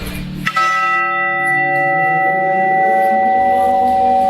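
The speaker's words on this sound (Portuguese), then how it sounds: "E esse sino aqui é da antiga catedral de 1902." A single cathedral church bell, from the old cathedral of 1902 in Pouso Alegre, struck once up close, its deep metallic tone ringing out and slowly decaying with a long shimmering hum.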